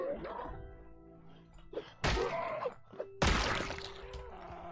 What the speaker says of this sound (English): I hear a bunch of zombies, dude.